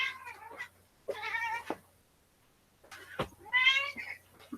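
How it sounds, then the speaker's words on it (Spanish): A hungry cat meows three times, drawn-out and fairly loud, with short pauses between calls in an otherwise quiet indoor room. "tiene hambre el gato"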